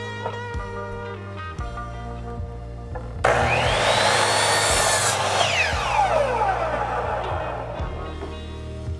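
A hand saw cuts lumber for a raised garden bed: a sudden, loud rasping stroke sequence of wood sawing starting partway in, continuing several seconds before fading, with faint background tones beforehand.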